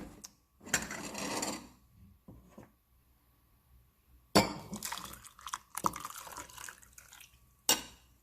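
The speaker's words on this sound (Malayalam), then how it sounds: "ഇനി നമുക്ക് ഇതിലോട്ട് നമ്മൾ എടുത്തു വെച്ചിരിക്കുന്ന പാല് ഒഴിച്ചു കൊടുക്കാം." Milk poured into a cup of hot dalgona coffee in several splashing bursts, with clinks of glass and a spoon between pours, close and fairly quiet, with no talking.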